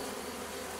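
Honey bees buzzing at an apiary hive in a Layens-style hive yard, a dense continuous hum filling the short moment without pause.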